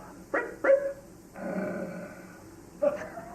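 A man imitates a dog, giving a few short yapping barks followed by a sustained low growl, then another yap, all close and loud with no other talk.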